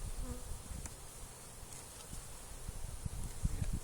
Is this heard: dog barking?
no